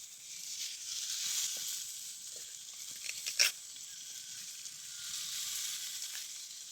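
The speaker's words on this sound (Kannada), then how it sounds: "ಹೆಣ್ಮಕ್ಳು ಇವತ್ತು ಫಿಶ್ ತವಾ ಫ್ರೈ ಮಾಡಿದ್ದಾರೆ" Fish pieces frying on a hot tawa outdoors near a farmhouse give a steady broadband sizzle throughout, with a brief louder crackle burst near the middle and no voices.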